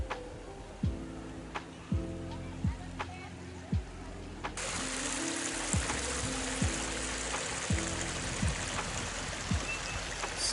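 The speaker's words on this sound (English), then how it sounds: "it's still a pretty little creek" Ginninderra Creek in Macgregor, ACT, a small urban creek fed by runoff, flows with a steady wash of water, overlaid by regular ticking clicks and faint low hum, with no one talking.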